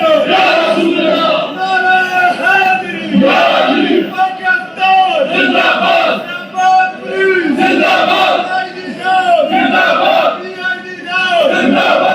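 A large crowd chants slogans in unison on a street in Islamabad during a police and container roadblock standoff, loud rhythmic shouted chants repeating continuously and close.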